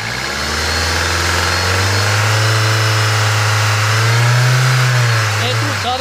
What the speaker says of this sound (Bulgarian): Колега, дай газ на колата!